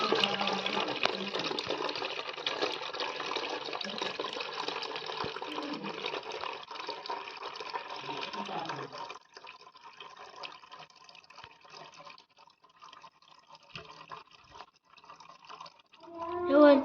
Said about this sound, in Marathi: असं नीट ओतायचं एकदम व्यवस्थित बाहेर सांडलं नाही पाहिजे ओतून घ्यायचं